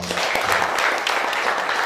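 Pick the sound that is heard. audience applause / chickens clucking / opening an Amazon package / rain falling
audience applause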